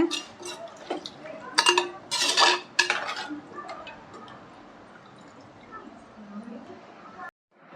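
Mutton and masala being mixed in a clay pot, with scraping and knocking of a spoon against the pot in short bursts early on, then a quieter simmer with faint clatter.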